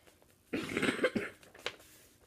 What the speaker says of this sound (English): I've had a bad cough for the past couple of days